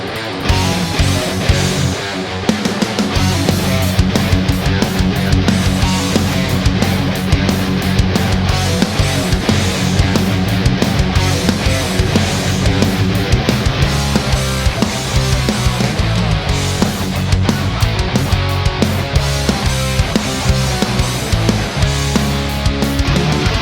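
A pre-mixed song in a music production setting, five backing vocal tracks layered into a dense, loud, continuous full-band mix with drums and steady rhythmic hits throughout, no talking over it.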